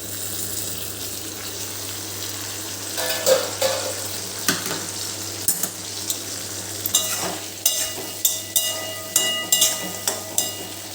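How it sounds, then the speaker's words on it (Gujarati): Capsicum and potato curry cooks covered on a low gas flame, a soft steady sizzle with a constant low hum, broken by a series of sharp clinks and knocks in the latter half. "હવે આની ઉપર આપણે આવી રીતે ઢાંકીને એને એકદમ ધીમા ગેસ ઉપર 10 મિનિટ સુધી આપણે ચડવા દઈશું"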